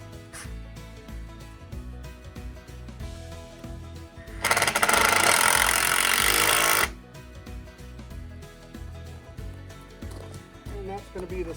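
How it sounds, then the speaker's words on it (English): A power drill drives a 1 5/8 inch decking screw into wood for a broiler shelter support, one loud sustained whirring burst of a few seconds in the middle, set amid quieter handling knocks. "I'm going to attach this right here using a 1 5/8 decking screw."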